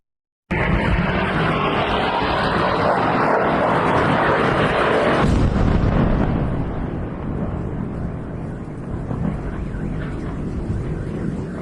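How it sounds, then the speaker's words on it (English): Explosions during strikes in Lebanon's Bekaa Valley, a loud, sustained roaring blast rumble that starts abruptly, holds heavy for several seconds, then settles into a lower ongoing roar. "Explosions everywhere."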